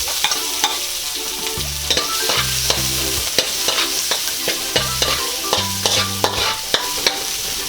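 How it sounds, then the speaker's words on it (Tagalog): Garlic sautés in hot oil in a pressure cooker with a bright, continuous sizzle, while repeated sharp scraping and tapping strokes of a utensil land every half second or so. "Pwede na po nating igisa itong ating bawang."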